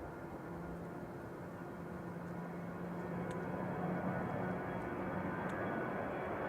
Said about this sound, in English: Just rotating there is EasyJet 707 to Belfast, GZWH